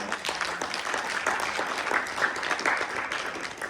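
A church congregation applauds together, a dense, steady wash of many hands clapping at moderate volume that carries on throughout, with no single clap standing out.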